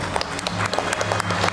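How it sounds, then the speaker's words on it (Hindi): Audience applause fills an awards ceremony for the automotive industry, a dense burst of steady clapping with a faint low hum underneath and no speech. "जोरदार तालियां"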